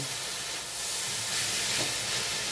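Water poured into a pan of frying beetroot sets off a loud, broad hiss of steam that holds steady and close for the whole moment.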